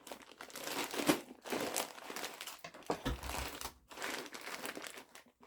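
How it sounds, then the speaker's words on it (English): Crinkling and crumpling of a plastic bag of dry canary (Mayacoba) beans as the air is pressed out, in several close bursts with brief pauses between. "Let us get all the air out of the bag."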